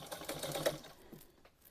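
Sewing machine stitching a gingham headband, a short close burst of rapid mechanical needle chatter that slows and stops within a second or so, fairly quiet.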